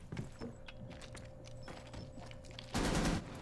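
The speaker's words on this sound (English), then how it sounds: "And Cryo does get a kill onto Frags" Gunfire in the video game Rainbow Six Siege during a college esports match, scattered distant shots and footsteps building to a loud, dense burst of automatic fire near the end.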